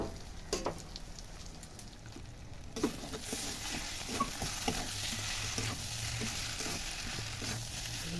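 Fried fish heads and gobindobhog rice being stirred in a pan for muri ghonto: a steady sizzle with scraping stir noises, quiet at first, then louder, continuous frying after a few seconds.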